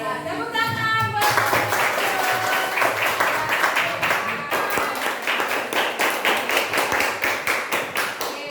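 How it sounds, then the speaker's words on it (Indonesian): Group applause fills the room at an academic coaching and supervision session, dense clapping from many hands running steadily throughout; tonal background sounds are briefly heard in the first second. "tepuk tangan"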